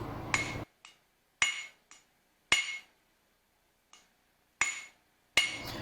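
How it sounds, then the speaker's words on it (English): A blacksmith's hammer strikes a taper on an anvil during forging of a custom touch mark: seven sharp, ringing metallic blows spaced about a second apart, each with a short bright ring, some followed by a light rebound tap. Close and loud, with no talk. "Now that our taper is formed, we can go ahead and speed up our hammering process"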